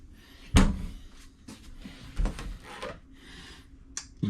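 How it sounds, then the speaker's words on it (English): Wooden drawers slide and knock shut a few times in a park model home, with rubbing scrapes between the thuds, close by in a quiet room. "Got some nice drawers here."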